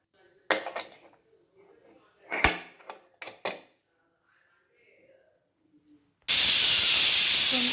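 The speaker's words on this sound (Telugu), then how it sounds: "కుక్కర్లో రెండు విజిల్ వచ్చే వరకు ఉడకనివ్వాలి" A pressure cooker of beans sits on the stove. A few metal clanks and knocks come first, then it suddenly releases a loud, steady hiss of steam that runs to the end.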